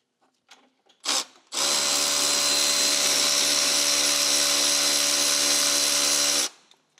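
A power tool whines loudly and steadily for about five seconds, after a brief first burst, while removing two 12 mm timing belt tensioner bolts on a 2008 Subaru Forester XT.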